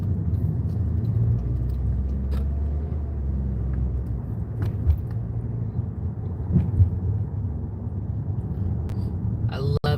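A car drives along a road, a steady low rumble and road roar filling ten seconds with a few faint clicks and rattles over it.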